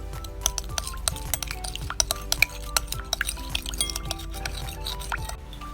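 Brown sugar and fish sauce marinade being stirred in a bowl, with a steady run of close, clinking taps of a utensil against the bowl over soft liquid swishing, with no talk.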